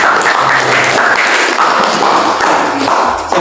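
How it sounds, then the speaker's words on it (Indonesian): Classroom of students applauding in a lesson on the Fathu Makkah, close and loud dense clapping with some thumps and taps, steady throughout. "Tepuk tangan luar biasa"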